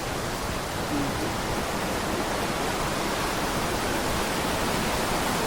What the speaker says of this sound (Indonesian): nah ini dia aliran sungai Cibentar yang semakin tinggi